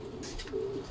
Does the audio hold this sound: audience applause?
no